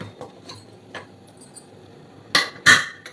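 A few light metallic taps followed by two sharper clanks near the end, a pressure cooker lid being set and locked in place over boiling avarekalu kichadi.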